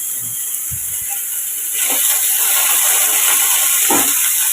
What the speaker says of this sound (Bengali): আলুটা দিয়ে দিলাম, আলুটা একটু ভাজা ভাজা হলে তারপরে দিয়ে দেবো বেগুন